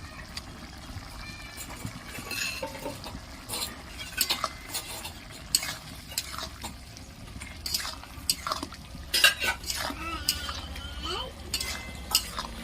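Spatula scraping and stirring through ground poppy seed paste mixed with boiled potatoes in a pan, a series of soft irregular clinks and wet scrapes close by, with no one talking.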